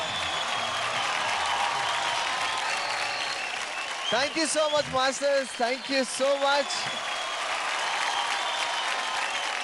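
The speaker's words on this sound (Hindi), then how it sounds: "क्या बात है, जोरदार तालियां हो जाए।" Loud, sustained applause from a studio audience on a children's dance reality show, a steady broadband roar that runs throughout while a host's voice thanks the young performers over it in the middle.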